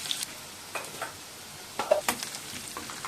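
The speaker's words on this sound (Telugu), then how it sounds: "సన్నగా తరిగి పెట్టుకున్న ఆనియన్స్ని ఇందులో వేసేసుకుంటున్నాను" Finely chopped onions frying in oil with fenugreek seeds for a fish curry, a soft sizzle broken by several stirring scrapes, close and fairly quiet, no talk.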